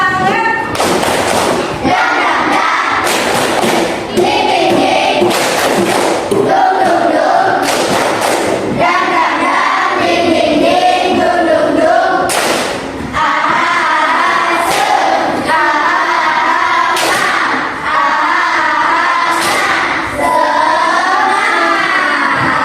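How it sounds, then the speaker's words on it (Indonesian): A school class performs a rhythmic spirit clap, sharp group claps landing in repeated patterns between loud chanted phrases from many children, close and energetic throughout. "kita tepuk semangat dulu biar semangat belajar kita hari ini"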